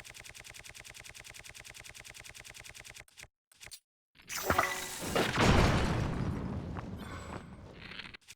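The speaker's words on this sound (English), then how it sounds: "When all else fails, we rely on tried and trusty explosions." In The Legend of Zelda: Tears of the Kingdom, a rapid mechanical rattling stops, then a loud booming explosion rolls out and slowly fades, with debris-like crackle.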